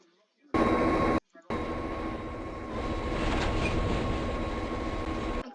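A toy train running on its tracks, a steady close rumble with a faint whine after a couple of brief starts and stops, with a voice speaking over it.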